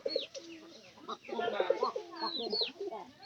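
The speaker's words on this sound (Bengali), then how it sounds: "এই যে নামছে কবুতর" Pigeons coo softly and repeatedly at close range as they land to feed, with a few higher chirps mixed in.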